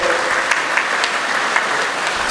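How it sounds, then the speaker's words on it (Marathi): An audience claps steadily at a foundation day event to welcome a guest speaker, dense, continuous applause filling the room at an even level from start to finish. "विनोद बाबर सरांचे आपण सर्वांनीच पुन्हा एकदा टाळ्या वाजवून मनपूर्वक स्वागत करावं"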